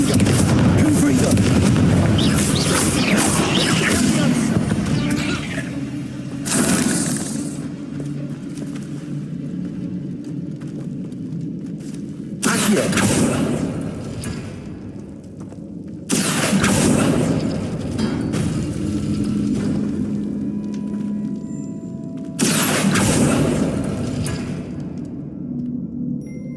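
In Hogwarts Legacy, Confringo blasting spells set off four heavy booming explosions spaced several seconds apart, each a loud rumbling burst that decays slowly, with in-game sounds between them.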